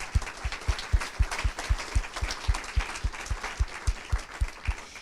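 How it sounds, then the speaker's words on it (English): Audience applause at a demo day event, a steady burst of clapping from a crowd lasting the whole moment, fairly close and without talk over it. "So can we give Alex and Jade a quick round of applause?"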